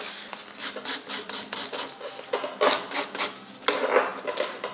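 A file rasps over an artificial nail extension to take off colour, making quick, close scratchy strokes in a steady back-and-forth rhythm with brief pauses.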